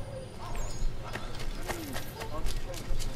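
Hooves clip-clopping from galloping horses in Assassin's Creed 3, light and irregular beneath game sounds, with people talking over them.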